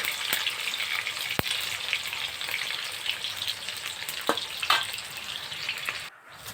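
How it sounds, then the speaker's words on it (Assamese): Onions sizzle and fry steadily in a hot pan, a constant crackling hiss with a few sharp scrapes and clinks as they are stirred, close and alone without talk. "এয়া পিঁয়াজখিনি অকণমান ৰঙচুৱা হোৱালৈকে মই লৰাই ল'ম"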